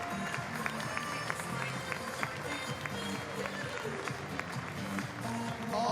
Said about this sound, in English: You can hear them cheering and congratulating all three of them.